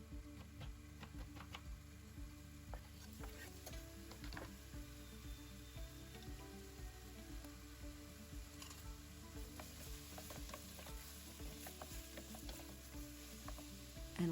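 Chopped onion frying in oil in a pot with carrots, a steady close sizzle with scattered clicks and stirring scrapes throughout, no talking.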